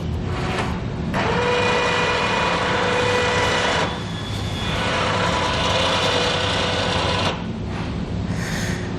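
Electric ATV winch on a 2004 Polaris Sportsman under test, a loud steady motor whine running in several long bursts with brief pauses between, heard alone.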